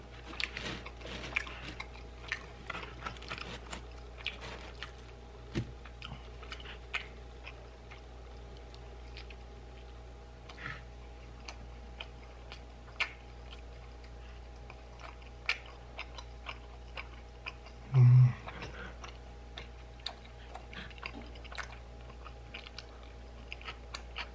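Someone eats a Domino's sweet potato pizza up close for ASMR, giving quiet, sporadic crunchy bites and soft chewing over a low steady background hum, with no talking.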